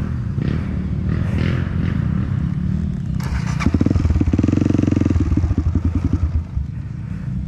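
A trail motorcycle on a muddy off-road trail ride engine runs loud and close, rumbling steadily, then bursts into a rapid chugging, pulsing rhythm as it lurches forward before easing off.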